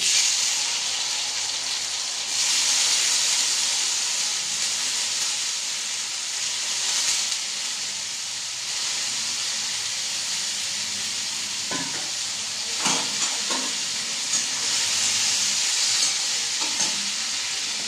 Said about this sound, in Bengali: আর আমি করলাকে ছেড়ে দেবো তেলের মধ্যে